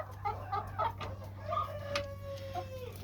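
A pet chicken clucks in several short, close bursts over a steady low hum, with a longer drawn-out call near the end.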